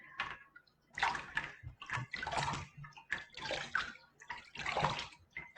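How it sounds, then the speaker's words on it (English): Hands splash water up onto the face in quick repeated bursts, close and fairly soft, with short pauses between the wet slaps and drips. "So you're literally splashing."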